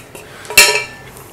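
A ladle stirs chili, turmeric, garam masala, cumin and green chilies in a metal pot of daal and egg mixture for bun kabab, giving one sharp, ringing clank amid a few faint taps.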